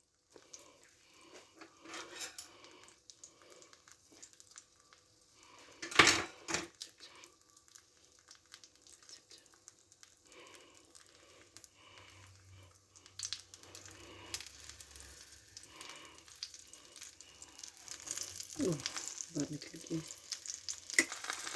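An egg fried with cheese, onions and tomatoes is flipped in the pan, giving a thud and scrape, then a quiet sizzle that grows louder and crackles more toward the end, with utensils scraping now and then and no talking.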